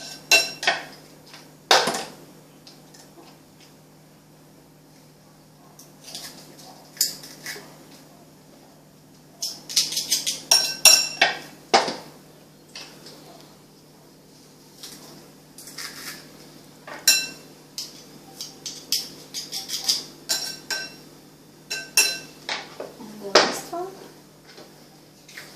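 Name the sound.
pressing garlic through a garlic press onto a plate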